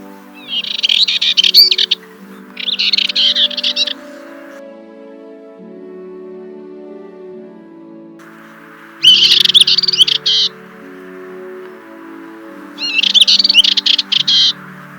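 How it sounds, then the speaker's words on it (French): A warbler sings in four short, bright phrases separated by pauses, its song standing out clearly against a faint low background hum. "ma copine, la fauvette Pichou."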